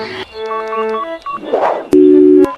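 A telephone call signal tone sounds alone with no talk, carrying steady electronic beeps and a louder, sustained tone burst near the end.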